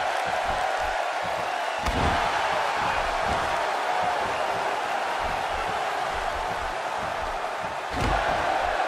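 A large arena crowd in the WWE 2K16 wrestling video game roars steadily throughout, a dense continuous wash of cheering with a couple of sharp thuds from ring impacts.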